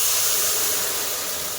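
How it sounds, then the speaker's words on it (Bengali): Water poured into a hot kadai holding 300 grams of sugar to make syrup, giving a loud, steady steaming hiss that fills the whole short moment. "আমি 1 বাটি জল দিয়ে দেব।"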